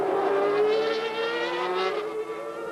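A 1991 Formula 1 car screams past on track while overtaking, a loud high-pitched engine wail that rises slightly then fades as it passes.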